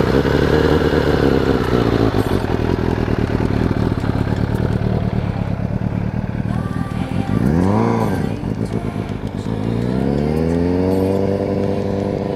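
A motorcycle rides away on a rough, bumpy road, its engine droning steadily and loud throughout, rising and falling in pitch as it shifts and accelerates, with no talk over it.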